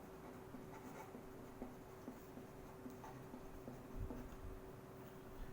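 Pen writing an algebraic expression by hand on paper, a soft steady scratching with small taps and strokes, quiet and close with no talking.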